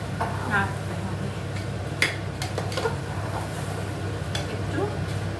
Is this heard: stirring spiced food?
yes